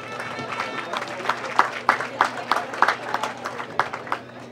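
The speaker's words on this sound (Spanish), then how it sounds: "pido por favor un fuerte aplauso" Bursts of clapping from a crowd at the election and crowning of the Queen of San Miguel, irregular and fairly loud, rising and falling in waves with sharp individual claps standing out.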